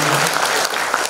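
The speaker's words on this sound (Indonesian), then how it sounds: "Boleh tepuk tangannya." Loud, dense applause from an audience at a university cooperation ceremony and public lecture with a prosecutorial commission in Indonesia, a continuous wash of clapping with no voices over it.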